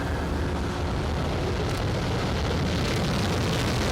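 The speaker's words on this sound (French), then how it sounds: "l'Airbus A330-300 de la compagnie Corsair qui s'apprête à atterrir sur le tarmac" A Corsair Airbus A330-300 airliner coming in to land, a loud, steady broadband jet roar filling the whole stretch without a break, heard outdoors at close range with no voices.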